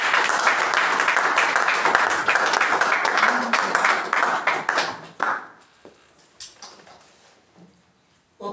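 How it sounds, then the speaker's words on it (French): A church congregation claps and cheers in praise, a dense wash of applause that holds steady for about five seconds, then breaks into scattered fading claps and a few stray voices. "Acclamons pour le Seigneur."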